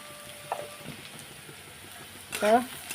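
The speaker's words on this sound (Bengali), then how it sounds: "নাড়া নাড়াই করে নিচ্ছি লাল লাল করে ভেজে নিচ্ছি" Onions sizzle quietly in oil in a pan, with a few stirring scrapes and a louder clatter of the spoon near the end.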